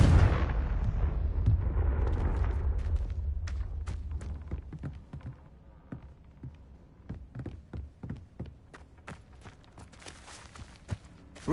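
A Confringo spell blast in the game Hogwarts Legacy: a heavy, rumbling explosion at the start that fades out over a few seconds, followed by a run of sharp, close footsteps and small impacts.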